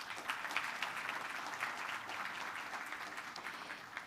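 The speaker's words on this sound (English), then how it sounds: "let's give Dr. Jerome Kim a big round of applause." Steady round of applause from a conference audience at a biotech summit after a keynote speaker, even and sustained throughout at moderate distance with no talking.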